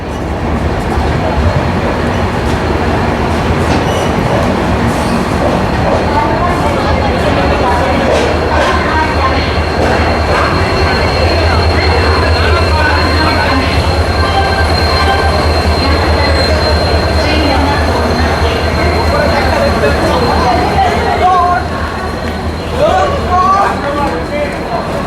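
The 18190 Ernakulam–Tatanagar Express pulling into Palakkad Junction in Kerala, a continuous loud rumble of railcars with long wheel squeal and occasional clatter, and voices heard faintly through it.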